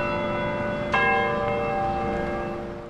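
A single large bell in a town bell tower nearly 50 years old strikes once with a clear, resonant tone that rings out and slowly fades, heard alone at a moderate distance.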